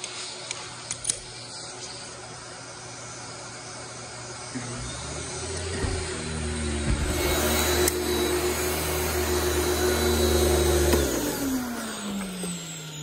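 A Eureka Empress 1 vacuum cleaner runs steadily with a droning motor hum, rising in pitch and loudness partway through before cutting off near the end, with a few clicks at the start.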